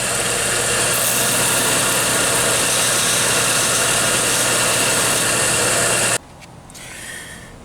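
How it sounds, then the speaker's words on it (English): A belt sander runs with a loud, steady droning whir while grinding the tip of an impact driver bit, then shuts off abruptly, leaving a fainter winding-down rumble. "Let's move over to the other belt sander and we'll finish this up."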